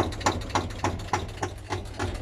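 A 1968 Steyr 86 tractor engine idles nearby, giving a steady low rumble with regular knocking pulses about every quarter second, with no talk over it.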